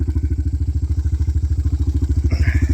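A four-wheeler ATV engine idles close by with a steady, rhythmic low thumping pulse, joined by a faint brief mechanical whine near the end, with no talking.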